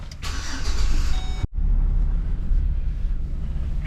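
A 2008 Express van with ABS issues rolls through a parking lot, its steady low road and engine rumble filling the cabin, briefly cut by a sharp dropout before the drive continues evenly.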